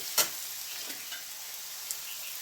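Onions and garlic for tomato chutney sizzle steadily in hot oil, with turmeric added and a sharp tap of a spoon near the start and a faint click later.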